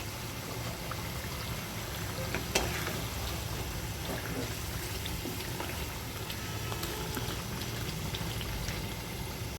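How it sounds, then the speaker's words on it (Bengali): Fish fries in a pan with spiced chili paste, giving a continuous hissing sizzle with faint stirring clicks and one sharper tap. No voices are present. "এখন মাছগুলো দিয়ে দেবো।"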